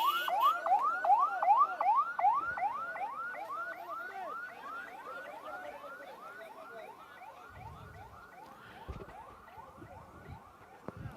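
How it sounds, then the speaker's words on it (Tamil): An ambulance siren passes an election campaign rally in Nagercoil, a rapid repeating rising wail that is loud at first and then gradually fades as it moves away, with no talking. "வழி விட்டுருங்க ஆம்புலன்ஸ்."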